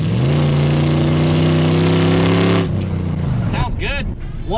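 A project truck's engine revs hard through its exhaust, holding a loud, steady high rev for a few seconds before dropping off, followed by a brief burst of nearby talk.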